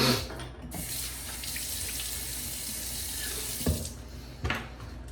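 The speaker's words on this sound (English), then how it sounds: "now that I've rinsed off the majority of the soap" Tap water runs steadily into a sink while a shaving brush is rinsed of soap, a close, continuous rushing splash lasting several seconds, with a couple of brief splashy bumps near the end and no talking.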